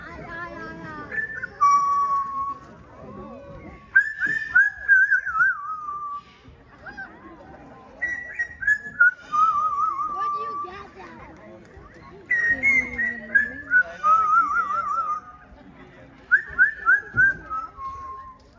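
A bird whistles a series of sliding melodic phrases, pausing between bursts, close by, with brief clicks and chatter in the gaps.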